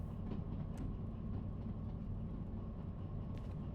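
Train in the Derail Valley simulator game rolling steadily along the rails, a continuous low rumble with faint clicking wheel noise, no talking.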